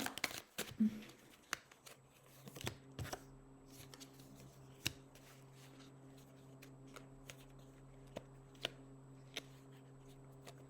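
A worn deck of oracle cards is shuffled by hand in a quiet room: a burst of riffling near the start, then a run of soft, close flicks and taps, with sharper card snaps spaced through the rest.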